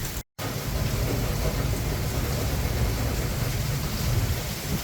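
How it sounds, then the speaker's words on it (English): Heavy summer rain pours down steadily outdoors, a dense, loud, continuous hiss and patter with a low rumble underneath, briefly cutting out near the start. "This is that nice summer rain I was wanting."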